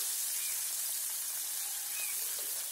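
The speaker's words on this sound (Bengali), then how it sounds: "তো দেখুন তেলের মধ্যে আমি মাছগুলো ছেড়ে দিচ্ছি, হালকা করে ভেজে নেব মাছগুলোকে।" Bata fish sizzling as it fries lightly in hot oil, a steady close hiss with no talking.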